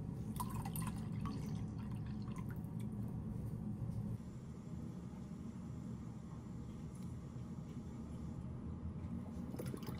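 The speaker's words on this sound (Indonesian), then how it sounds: "Oke, setelah ditambahkan air, kemudian langsung saja telurnya diaduk-aduk lagi sampai merata ya." Cold boiled water is poured into beaten eggs for Hong Kong-style silky steamed egg, a steady close trickle and dripping of liquid lasting several seconds, with no talking.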